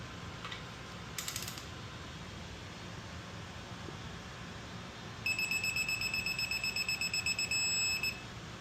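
A torque wrench tightening timing cover bolts on an LS engine to 18 foot-pounds: a quick burst of ratchet clicks, then a loud, steady pulsing electronic beep lasting about three seconds over a quiet room hum.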